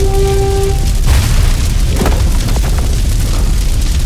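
Layered cinematic sound effects with screams, Viking horns and collapsing buildings make a dense, loud wall of rumbling booms, with a brief horn-like tone at the start and crashing bursts throughout.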